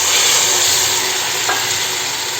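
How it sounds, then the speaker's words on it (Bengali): Loud, steady hiss of masala frying in a pan for a Bengali bata fish curry, with a short splash near the middle as the spice-washing water goes in, no voices. "এরপর মশলা ধোয়ার জলটা দিয়ে দেবো"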